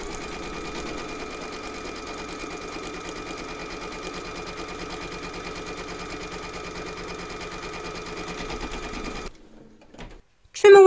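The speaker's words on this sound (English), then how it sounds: "Pop your hoop into your machine and stitch round number two to secure it." An embroidery sewing machine stitches through batting held in a hoop with a loud, continuous rapid whir and a steady hum, then stops near the end, followed by a couple of brief clicks.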